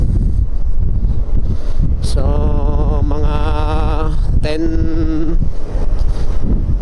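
Wind buffets the microphone on a road trip descending from Tagaytay toward Talisay, Batangas, a loud, steady low rumble throughout. A brief tonal sound rises over it midway, and a voice speaks briefly.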